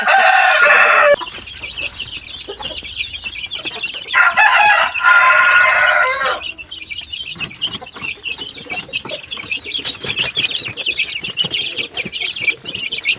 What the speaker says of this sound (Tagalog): Ito mabait namang sisiw.